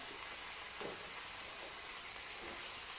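Onions and peppers sizzle steadily in a hot pan for a Turkish minced-meat taco filling, a dense continuous frying hiss with faint stirring bumps and no voices.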